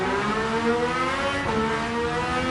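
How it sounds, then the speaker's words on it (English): A racing car engine in the video game Gran Turismo 7 in VR drones at high pitch, steadily climbing toward the red line and shifting in tone, loud and continuous with no talking. "I'm listening to the engine."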